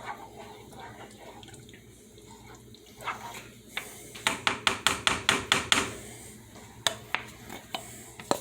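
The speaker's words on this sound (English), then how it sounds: "Alright, now you want to stir that together. All the peppers, right? Stir them together nice and slowly." A spoon stirs peppers into chili in a pot, making a quick run of rhythmic metallic clanks and taps against the pot over quiet kitchen background.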